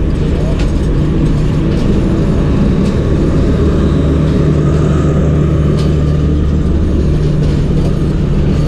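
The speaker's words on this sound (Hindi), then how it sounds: "40 डाउन जाफर एक्सप्रेस जो है वो सिब्बी जंक्शन से कोयटा के लिए डिपार्ट हो रही है" Jaffar Express train pulling out of Sibi Junction bound for Quetta, a loud continuous rumble and rolling clatter heard from on board with faint background chatter.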